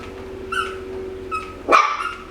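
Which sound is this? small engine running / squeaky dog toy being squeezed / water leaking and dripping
squeaky dog toy being squeezed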